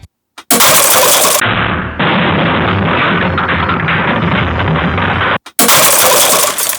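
A silver airsoft Moscart gas shell, its gas leak repaired with fluororubber O-rings and fresh grease, fires as one loud, close, sustained rush of gas lasting about five seconds, then a brief pause and a second burst.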